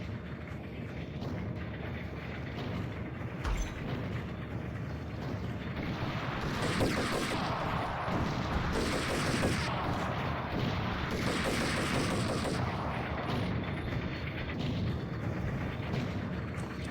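Dense, continuous video-game gunfire in Max Payne, a rumbling barrage of overlapping shots that grows heavier midway, steady and close throughout.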